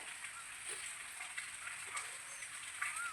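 Steady unseasonal summer rain patters and hisses on a surface, a dense even wash of droplets with a few sharper drips, fairly faint and without voices.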